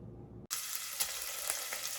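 Bacon frying in a pan for annatto-spiced Chamorro red rice: a close, steady hiss and crackle that bursts in abruptly after a short quiet moment and continues evenly.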